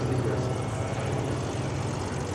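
An aerobatic airplane performs at the EAA AirVenture Oshkosh 2025 IAC showcase, making a steady buzzing propeller drone at a distance, with a continuous throbbing engine tone and no talk.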